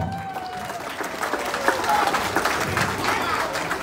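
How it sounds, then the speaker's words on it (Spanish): Applause and crowd noise at a quinceañera-style dance performance after a waltz with chambelanes, a steady wash of clapping and cheering lasting several seconds with voices mixed in. "¡Fuerte el aplauso!"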